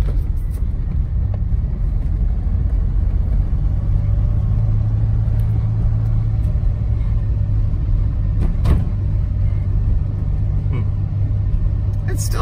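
A 1981 DeLorean DMC-12 under restoration driving along with a steady low engine rumble and road noise, a brief clunk suggesting a gear change, and someone talking over it.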